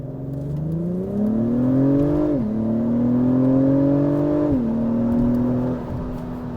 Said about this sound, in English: Listen to the downshift.